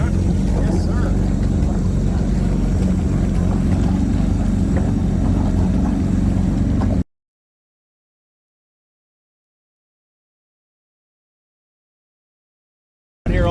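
A Bullet V5 racing jet ski built on a Yamaha SXR 1500 engine gives a loud, steady, close engine roar for about seven seconds. It then cuts to silence, and the roar returns briefly at the very end.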